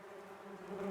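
Honeybees from a backyard hive buzz in a steady, close drone with no voices, the hum swelling slightly louder toward the end.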